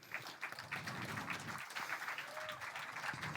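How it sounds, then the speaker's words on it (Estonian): Large applause for a presenter stepping onstage at an Estonian school awards event in an office headquarters, a dense, steady clapping crowd sustained throughout at moderate volume, with faint voices underneath. "Teeme suure aplaus"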